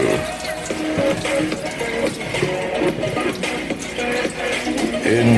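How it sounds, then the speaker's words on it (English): Rice being rinsed under running tap water, a steady close splashing and rushing flow with sloshing throughout. "I'm going to wash the rice and get the rice ready"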